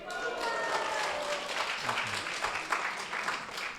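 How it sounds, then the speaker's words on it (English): An audience at an initiation ceremony applauds Panditji, with steady broadband clapping filling the clip at moderate level and a faint voice underneath. "Give him a big round of applause."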